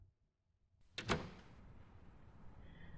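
A door opens in the visual novel game First Snow, a short creak and thud of the latch and swing, followed by a low, cold outdoor ambience with no talk.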